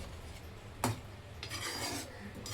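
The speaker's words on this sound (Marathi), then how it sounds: "चांगलं मिक्स करून घेते." Food being mixed well in a pot, heard as a couple of rough scraping strokes of a spoon against the pot, close up over a low background hum.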